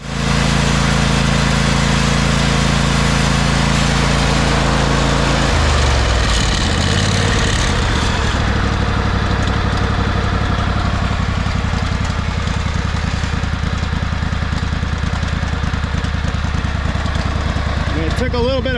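An old, beat-up tractor engine cranks, catches and settles into a loud, steady chugging run after a carburetor swap, close by, with a voice briefly over the start.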